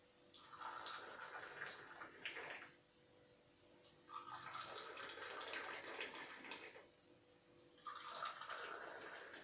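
Hot water is poured for a chickpea (hummus el sham) drink, three separate bursts of splashing, gurgling pour, each lasting a couple of seconds with short quiet gaps, fairly soft and close.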